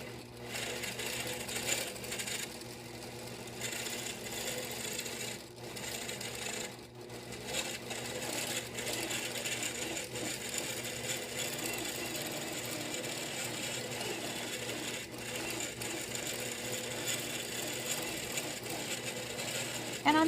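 A long arm sewing machine stitches a raw edge appliqué in a steady, continuous mechanical whir with a rhythmic ticking, running unbroken and fairly loud.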